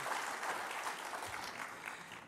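Soft, continuous clapping comes from an audience at a machining apprenticeship graduation, a brief stretch of distant, steady applause.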